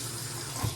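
Hot water running from a tap, a brief, steady close-up rush of flowing water with no talking.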